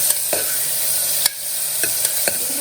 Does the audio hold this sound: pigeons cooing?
no